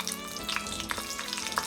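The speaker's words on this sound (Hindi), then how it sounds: "जब जीरा स्प्लैटर हो जाए अच्छे से" Cumin seeds spluttering in hot oil or ghee for a quick tadka on dal in Uttar Pradesh style, a steady close sizzle with small sharp pops and crackles scattered throughout.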